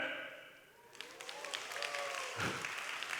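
A church congregation breaks into applause after a hymn, a burst of clapping that swells and holds steady, moderately near, following a soft fading tone.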